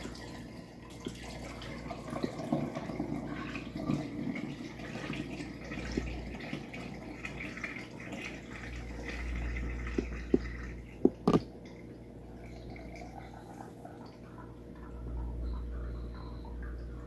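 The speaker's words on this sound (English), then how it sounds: "now we're just gonna pour this liquid, which is the whey serum" Liquid whey serum is poured out during homemade lactic acid bacteria preparation, giving soft splashing and dripping over a low background hum, with a few sharper clinks near the end.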